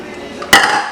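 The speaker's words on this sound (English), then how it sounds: "we're going to chop up this pineapple" A single sharp knife chop into fresh pineapple on a cutting board, one crisp impact midway through a brief quiet moment in a home kitchen.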